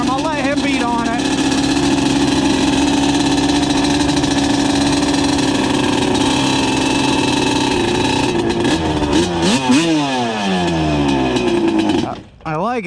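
A freshly built Yamaha Banshee 350 with an Alpha Cub kit runs loud and continuous, its two-stroke engine revving and rising in pitch several times before briefly dropping off near the end.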